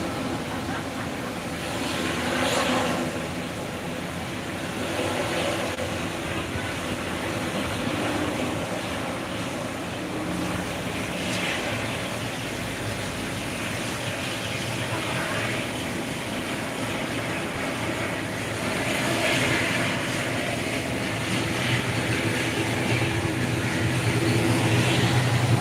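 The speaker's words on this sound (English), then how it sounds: "And Singapore Airlines taking off." A Singapore Airlines airliner taking off at Phuket International Airport, its engines a broad, steady roar heard from a distance outdoors, with wind noise and a slow swell in loudness.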